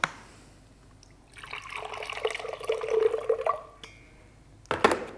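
Water pours out of a RediKettle electric kettle in a steady splashing stream for about two seconds, then stops, followed by a brief clink near the end.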